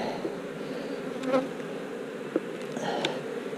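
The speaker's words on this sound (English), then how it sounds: "See, we got this box of bees here." A steady, close drone of many honey bees buzzing around a hive box during a honey harvest, with occasional individual insects flying past and a few faint knocks.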